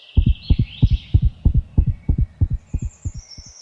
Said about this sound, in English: chipmunks have a normal heartbeat of 350 beats per minute